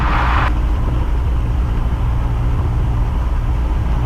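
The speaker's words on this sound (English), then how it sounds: "Throttle up to 1700 RPMs" Piper Cherokee light aircraft engine running up at 1700 RPM, a loud, steady, close droning roar that holds constant with no talking.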